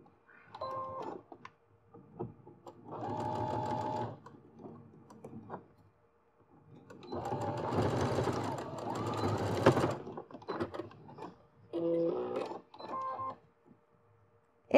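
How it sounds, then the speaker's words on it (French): A domestic sewing machine stitches over a zip seam enclosed in fabric tape, running in several bursts of rapid mechanical whirring and ticking separated by short pauses, fairly close. "je couds par-dessus ma première couture"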